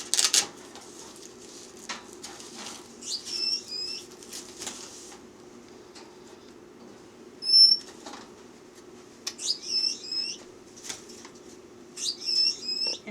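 Pet birds in a cage flap their wings in several short fluttering bursts scattered among sharp chirps and small rattles, with a low steady hum underneath.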